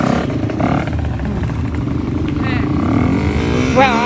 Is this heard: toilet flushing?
no